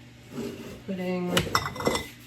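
Hot glass canning jars clink and knock against metal as they are loaded into a canner, several sharp clinks over a low kitchen hum, fairly close.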